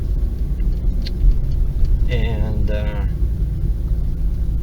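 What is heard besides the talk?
car engine roaring with SpeedTech muffler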